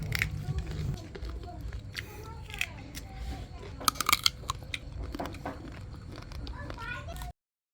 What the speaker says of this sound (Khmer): បងប្អូនស្ដាប់តែសំឡេងខ្ញុំញ៉ាំក៏ដឹងថារសជាតិហឹរឆ្ងាញ់